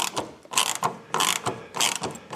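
A ratchet turns a T25 Torx screw on a car door latch, with bursts of quick clicking close by, roughly six short runs separated by brief pauses, and no talk.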